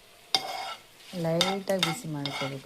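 A spatula scrapes and stirs pepper and fenugreek seeds across a dry pan in squeaky, grinding strokes, with short pauses between bursts, as spices are lightly roasted for a Mangalore fish curry.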